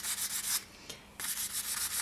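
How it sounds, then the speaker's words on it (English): Polymer clay earring pieces are sanded by hand with 600-grit sandpaper, giving quick, rhythmic, close-up scratchy rubbing strokes with a short pause midway, and no talking. "we're going to be revealing that pattern now by using some 600 grit sandpaper. And you're just going to take that and you're going to sand the surface."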